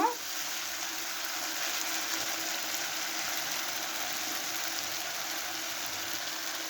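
Ginger-garlic paste frying in a pan while being stirred for a Bengali murighonto, a steady soft sizzle with a faint clink at the start, constant and fairly quiet throughout.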